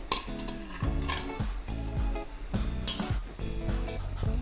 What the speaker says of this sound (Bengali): চিকেনগুলো দেওয়ার পর কিছুক্ষণ নেড়ে চেড়ে আমি ঢেকে দিলাম।